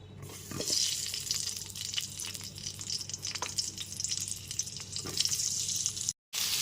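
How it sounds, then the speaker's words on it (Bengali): Pieces of pointed gourd (potol) frying in oil in a pan on a gas stove, a constant close hiss with occasional spatters, cutting out briefly near the end. "এবার পটলগুলোকে ভেজে নেব পটলের টুকরোগুলোকে দিয়ে দিচ্ছি"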